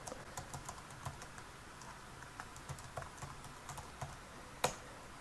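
A GitHub password typed on a computer keyboard: quiet, irregular clicking keystrokes in short bursts, ending with one sharper, louder key press near the end.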